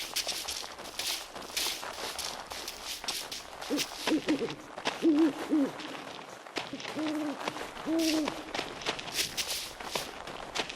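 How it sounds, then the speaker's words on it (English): An owl hoots several times in the video game The First Templar, soft wavering calls rising over steady crunching footsteps and outdoor ambience. "An owl again."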